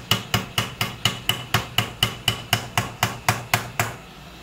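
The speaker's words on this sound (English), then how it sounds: "You got to hammer it in just a little bit." A hammer drives a filament holder onto a KP3S 3D printer in fifteen loud, evenly spaced taps at about three per second, each a sharp knock that stops abruptly, with no talking.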